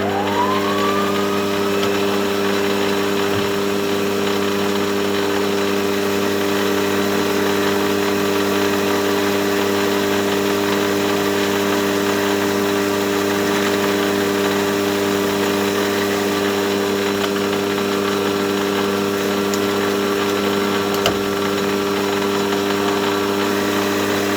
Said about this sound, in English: I'm just going to skim the outside diameter now.